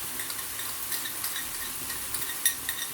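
A spoon stirs chicken breast and vermicelli stuffing with garlic in oil in a pan, giving a constant hissing fry broken by small scraping clicks and a sharper knock near the end.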